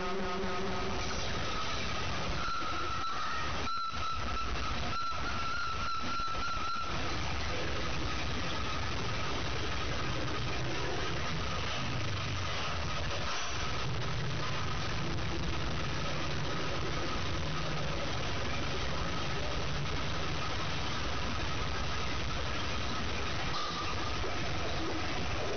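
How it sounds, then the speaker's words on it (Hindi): A sewing machine stitches pleats into a pair of trousers, its motor giving a steady, even mechanical hum and whir that runs without pause for the whole stretch, with no talking. "ये मैं इसके साथ तीसरी प्लेट डालूंगी और इसके ऊपर भी मैं इसके साथ सिलाई लगा लूंगी"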